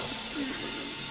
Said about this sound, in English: It's one of the drain valves on the compressors has come open.